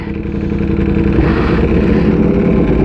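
Ducati Panigale V4 motorcycle engine idling steadily at about 2,000 RPM, a loud, close, continuous low rumble with no break and no talking.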